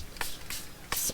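Three quick bursts of homemade ink spray made from an old marker, short hissy puffs from a small spray bottle, close and fairly loud, evenly spaced.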